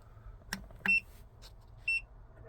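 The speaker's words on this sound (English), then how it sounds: "It beeps a couple times and shuts right back off" An EcoFlow Delta 2 power station gives two sharp, close electronic beeps about a second apart as it shuts off on overload on its 12 volt output, with a couple of faint clicks in between.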